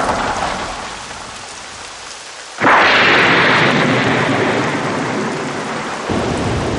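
Heavy rain hisses in a steady wash, then a loud crack of thunder breaks in and becomes a sustained rumbling downpour, with no voices, in an animated episode's stormy scene.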